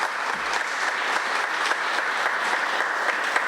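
An audience at a small business awards ceremony applauds in a dense, steady wash of clapping, sustained and even throughout with no pauses.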